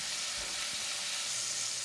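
Food browns in a very hot pan on a stove turned up to super boil, with a constant broad sizzle and hiss and faint scraping near the start.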